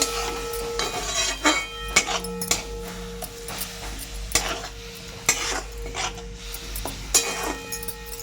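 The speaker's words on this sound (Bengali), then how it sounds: "কড়াতে এবার টমেটো আদা রসুনের পেস্টটা দিলাম ভালো করে নেড়ে চেড়ে নিচ্ছি" Tomato, ginger and garlic paste fries in a kadai while a metal spatula stirs it, sharp clinks and scrapes against the pan recurring irregularly over a low sizzle, with no speech.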